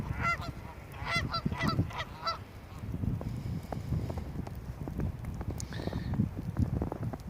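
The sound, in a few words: Canada geese family honking in cold winter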